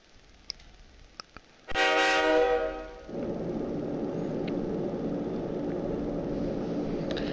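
A passenger train in the video game Persona 3 Portable sounds a loud horn blast and then rumbles on steadily, after a few faint clicks at the start.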